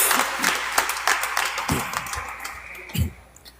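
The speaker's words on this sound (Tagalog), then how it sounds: "Pumalakpak nga lahat ng bless." Congregation applause during a Sunday Mass in a Filipino church, a steady wash of clapping from many hands in a reverberant room, moderately loud, with a few stray sounds near the end.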